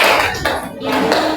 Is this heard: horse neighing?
no